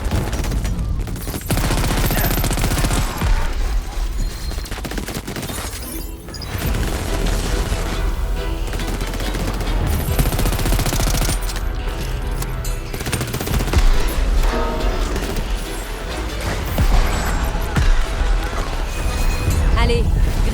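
Dense, continuous gunfire in the video game Crackdown 3, with rapid automatic bursts and heavy booms running loud throughout, mixed with game sounds and voices.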